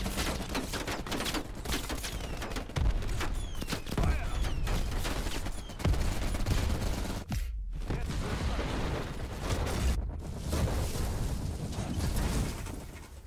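Rapid bursts of automatic gunfire and sharp shots from the video game Call of Duty Black Ops Cold War, sounding repeatedly and loudly with short pauses, amid mechanical game effects.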